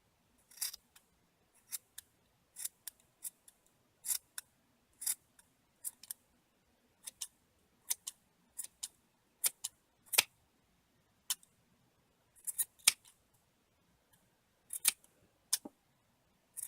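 Scissors making small snips while trimming a round yarn pom-pom, crisp close clicks spaced irregularly, sometimes in quick pairs, over near silence.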